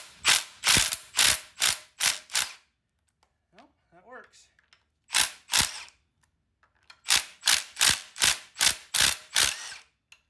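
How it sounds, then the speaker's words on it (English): An impact gun hammers at the flywheel bolts of a Triumph Spitfire engine in short, sharp rattling bursts: about six in a row, a pause with a brief voice, two more, then a final run of seven, all close and loud. "let's try an impact gun on these flywheel bolts"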